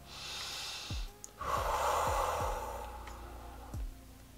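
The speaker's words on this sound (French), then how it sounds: "je t'invite à prendre une grande respiration" A slow, deep breath drawn in and let out, close and soft, steady airy inhalation followed by a long exhale, with faint low thumps over a quiet room.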